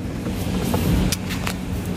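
A Mitsubishi L300 diesel engine with its injection pump sensor unplugged idles steadily up close, a low even hum with a few faint clicks on top.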